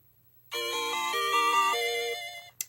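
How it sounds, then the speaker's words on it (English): A melodic phone ringtone plays alone, a short sequence of bright stepped electronic tones that runs for about two seconds and then cuts off, with a brief click at the end. "There goes my phone."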